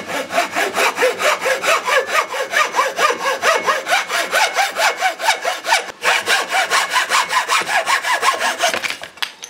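A hand saw cuts lengthwise through a wooden strip for a photo frame, its steady back-and-forth strokes loud, close and rhythmic, with no voices.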